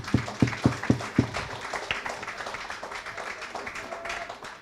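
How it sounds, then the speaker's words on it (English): Applause breaks out in a primary school courtyard during a community forum, starting with several loud, distinct claps before settling into a softer, steady patter from the crowd, with some voices mixed in. "You need to clap for that."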